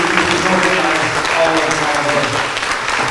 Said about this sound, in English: Let's give one more round of applause to the instructors.